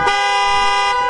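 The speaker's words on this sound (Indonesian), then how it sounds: "Kembali suara berisik klakson mobil ambulans jenazah itu membangunkanku." A loud, steady hearse ambulance horn blares continuously, a bright buzzing tone held for about a second at close range.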